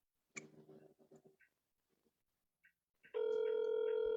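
A telephone call being placed: scattered short dialing tones and clicks, then a loud, steady ringback tone with a held pitch that begins near the end and continues.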